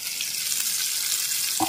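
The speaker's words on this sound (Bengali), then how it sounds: "এবার এগুলোকে একটু ঘুরিয়ে ফিরিয়ে ভেজে নিতে হবে" Chicken reshmi kebab pieces fry in oil in a pan over a lowered gas flame, giving a steady close sizzle and crackle throughout, with a brief louder clatter right at the end.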